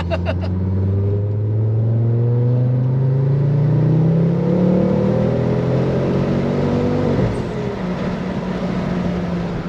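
A Ford Focus RS accelerating hard, heard from inside: the engine note climbs steadily in pitch through a gear, then drops sharply at a shift and starts rising again, loud and continuous.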